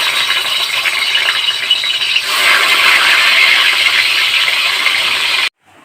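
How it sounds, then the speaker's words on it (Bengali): Pieces of katla fish sizzling in hot oil in a pan, a loud, steady close frying hiss that swells midway and then cuts off abruptly. "তেল গরম হয়ে গেছে, মাছ ছেড়ে দিলাম তেলে।"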